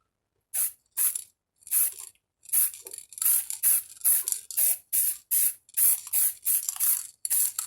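An aerosol can sprays paint onto a Honda CB200 motorcycle fuel tank in about fifteen short, even hissing bursts, close and loud, separated by brief silences.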